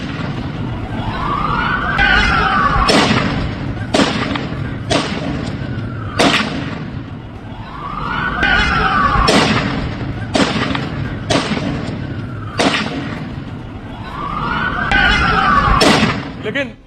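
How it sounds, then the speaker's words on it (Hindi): Sharp gunshot bangs ring out at irregular intervals, several in quick succession, over a rising and falling siren wail and a voice speaking throughout. "नवीद अकरम देखिए बेखौफ होकर बेधड़ल्ले से गोली चला रहा है।"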